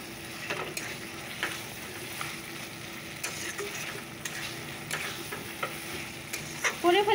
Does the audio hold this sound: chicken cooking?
yes